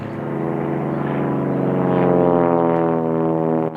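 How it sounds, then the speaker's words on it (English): A classic propeller airplane flying overhead, a loud steady droning engine with rising intensity that peaks midway and cuts off abruptly at the end, with no talk. "When it comes to classic aircrafts, there's flying And then there's flying."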